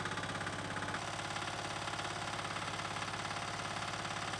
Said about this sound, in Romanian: Am pornit mini-tractorul ca să facem câteva probe de funcționare în gol